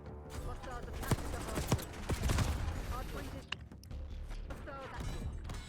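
Gunfire from a gunfight in Black Ops 6, several sharp shots and bursts going off at varying distances, with voices talking over the action throughout.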